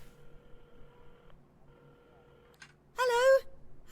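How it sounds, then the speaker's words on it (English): A telephone being dialed at a café counter: faint button tones and clicks over a low background, ending in a brief loud warbling tone. "at the counter, Carmen had started dialing the phone"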